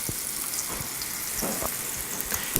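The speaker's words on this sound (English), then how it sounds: "get the pan on a medium-low to medium temperature, just enough to get a nice sizzle going on, and just let these guys brown" Chicken pieces sizzling and browning in a pan over medium-low to medium heat, a steady soft crackle with faint scattered pops and occasional light knocks, close by and moderately quiet.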